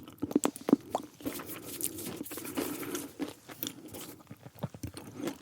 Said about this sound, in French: Une petite souris qui grignote un croissant à taille humaine.